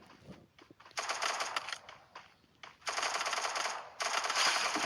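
Rapid machine gun fire in the video game Free Fire rattles in long sustained bursts, stopping and starting three times, loud and harsh against quiet game background sounds.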